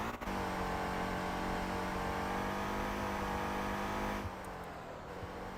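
Car engine in the Motor Town driving game droning steadily at high revs, then dropping in pitch and loudness as it shifts down near the end, with no talk.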